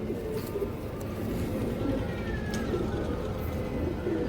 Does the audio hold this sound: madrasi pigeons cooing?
yes